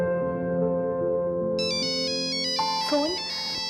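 A phone ringtone plays a bright electronic melody of repeating tones, steady and clear, with a brief voice near the end.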